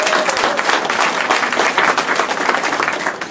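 Audience applause at a civic policy event on a riverway project, a steady dense wash of clapping from a crowd throughout, no talk over it.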